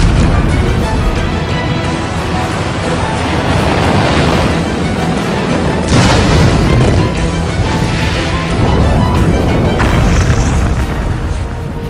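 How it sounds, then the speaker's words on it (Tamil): Loud, continuous booming blast of an SLV rocket exploding shortly after launch, a dense rumbling roar with repeated crashing surges over twelve seconds and no talk. "1979 ஆகஸ்ட் மாதம் SLV முதன்முறையாக விண்ணில் ஏவப்பட்டு 317 வினாடிகளில் அது வெடித்து சிதறியது."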